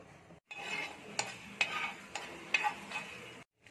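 Coriander seeds dry-roasting in a pan with mustard and fenugreek seeds for bisibele bath, a soft rustling sizzle broken by several light clinks and scrapes of a stirring spoon.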